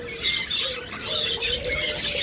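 Caged pet lovebirds, cockatiels and budgies chatter and squawk close by, a dense stream of shrill chirps and harsher calls with no pauses.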